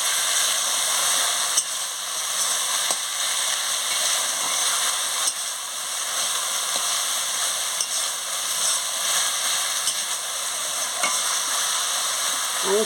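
Taro stalks stir-fry with spices in a pan, giving a steady loud sizzle and hiss throughout, with faint scrapes of stirring.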